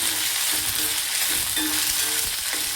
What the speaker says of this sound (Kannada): ಹಾಗೆ ಸಾಸಿವೆ ಚಟ್ಪಟ ಆದ ನಂತರ 1-2 ಒಣಮೆಣಸಿನ್ಕಾಯಿ, ಹಾಗೆ ಈರುಳ್ಳಿ ಹಾಕಿ ಚೆನ್ನಾಗಿ ಮಿಕ್ಸ್ ಮಾಡ್ಕೋಬೇಕು